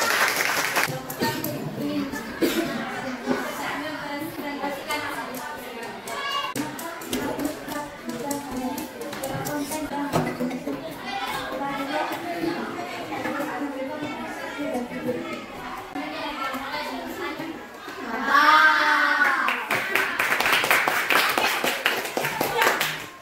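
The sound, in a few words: classroom students clapping hands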